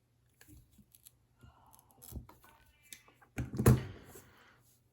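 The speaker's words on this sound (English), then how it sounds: "you want to cut off or strip off about 1/4 of an inch" Insulation being cut and stripped off a wire end for an XT60 connector, a few short snips and scrapes with sharp clicks, loudest near the end, close by in a quiet room.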